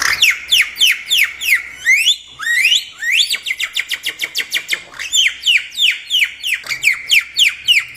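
A device mimicking bird calls sends out rapid, repeated chirping whistles, loud and close, in quick rhythmic bursts with brief pauses between runs.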